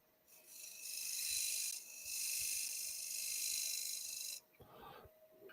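A woodturning tool cutting a bevel on a spinning workpiece on a lathe: two long, loud, hissing rasping cuts, briefly broken, then a few softer scrapes at the end.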